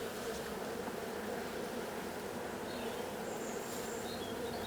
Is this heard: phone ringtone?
no